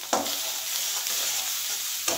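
Rupchanda fish curry masala sautéing in a pan with a steady, close sizzle and hiss, punctuated by a few louder scrapes of stirring.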